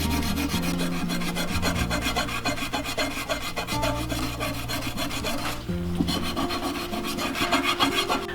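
Rust eraser scrubbing rust off a 10 1/4 inch number 7 cast iron pan made in the USA, a steady close rasping rub with rapid back-and-forth strokes, continuous and loud with no talk.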